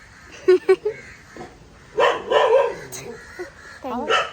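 A pet dog gives a few short yips and barks in quick bursts, mixed with excited chatter from several people nearby during a birthday surprise.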